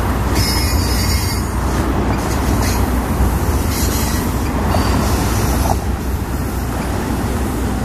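A Union Pacific freight train with CSX locomotive units rolls past in Houston's Memorial Park, its steady loud rumble of wagons carrying bright, continuous wheel squeal throughout.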